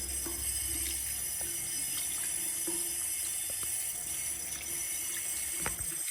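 Tap water runs in a steady, unbroken stream into a sink while cuticle remover is rinsed off the nails, a soft constant hiss with no talking.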